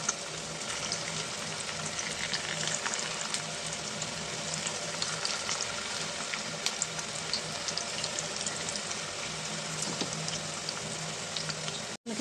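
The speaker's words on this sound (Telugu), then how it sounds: "ఇప్పుడు దీంట్లో మనం మిక్స్ చేసుకొని మసాలా అన్ని పెట్టుకుని ఈ బెండకాయ ముక్కలను అయితే వేసేసుకున్నామండి" Spiced, masala-coated okra pieces deep frying in hot oil for crunchy bhindi fry, a dense steady sizzle and crackle running close and loud for about twelve seconds before cutting off abruptly at the end.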